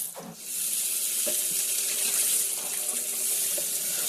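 A bathroom tap in a 2021 Elddis Rambler 20T caravan runs in a steady, close hiss of water after it turns on at the start, with no talking.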